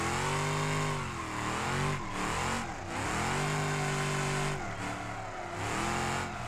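Bruckel Moonhawk muscle car in the BeamNG driving game, its engine revving hard and steadily throughout with rising and falling pitch sweeps as it drifts, loud and close with no voices.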